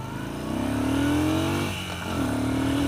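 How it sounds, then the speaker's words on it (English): A 2017 Yamaha SCR 950 motorcycle accelerates at full throttle, its engine note climbing steadily through one gear, dipping at a shift, then rising again, loud and close with wind noise around it. "Full throttle in second, winding out third."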